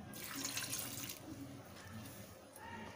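Water pours steadily into a pressure cooker holding green peas while pav bhaji is being made, a continuous, fairly soft splashing stream lasting about three seconds with no voices.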